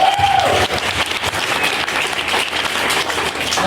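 Comedy club audience at a stand-up show applauding and cheering in a theatre, a sustained loud wash of clapping and crowd noise throughout, with a brief whistle at the start.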